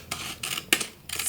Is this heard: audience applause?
no